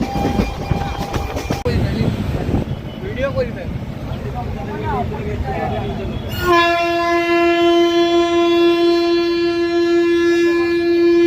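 A passenger train bound for Rampurhat sounds its horn in a long, loud, steady blast that takes over midway, following a stretch of rumbling running noise with voices over it.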